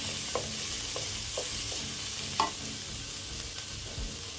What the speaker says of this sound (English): Here I'm just having some carrots and some green pea and some corn. And I'm just going to fry this, okay?